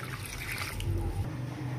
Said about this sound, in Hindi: 1 glass पानी का डाल देंगे।